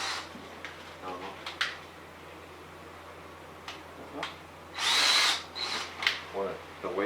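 A power drill whirs in short bursts, the clearest a loud spin of under a second, while a Chevy SS TrailBlazer's 6.0 engine is primed in a garage, with quiet background noise between the bursts.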